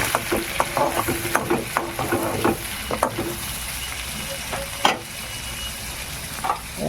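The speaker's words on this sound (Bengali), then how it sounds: "যে তেলটা আমি তেলের মধ্যে দিয়ে জোড়া মাছটা দিয়ে কত তেল বেরোচ্ছে।" Whole fish frying in hot mustard oil with dried red chillies, a steady loud sizzle and hiss with some stirring clatter throughout.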